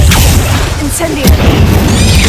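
An Incendio fire spell is cast in Hogwarts Legacy, a loud booming burst of flame in an underground chamber, heard as a couple of heavy whooshing blasts with a voice calling out over them.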